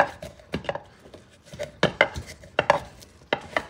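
Ingredients for Canarian mojo rojo are pounded in a wooden mortar, making a close series of sharp, uneven knocks and thuds in irregular bursts.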